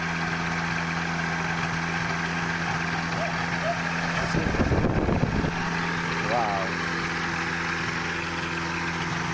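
A Paraelement Cargo 500 carriage's engine with an extended exhaust idles in a steady, quiet, even hum, holding through the whole stretch with a brief louder burst of knocking near the middle.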